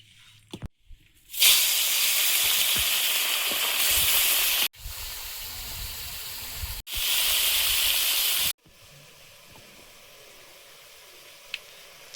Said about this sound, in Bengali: লোটে মাছ কটা একটু ফ্রাই করব